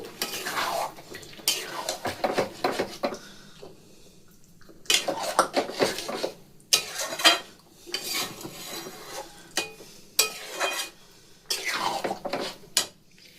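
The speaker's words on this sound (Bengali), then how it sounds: "একটুখানি কসুরি মেথি একটুখানি ছড়িয়ে ভালো করে মিশিয়ে দেব" A spoon scrapes and clanks against a pot while kasuri methi is stirred into Kashmiri chhana aloo dum. The stirring comes in repeated bursts separated by short pauses, with faint sizzling beneath.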